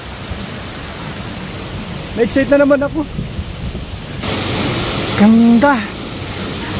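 A spring-water waterfall in the historical center of Old Tbilisi rushes as a steady broadband hiss, swelling louder midway, while a voice speaks briefly twice over it.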